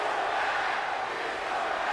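Wrestling arena crowd chanting in unison after a time limit draw, a dense roaring wall of many voices filling the space steadily throughout.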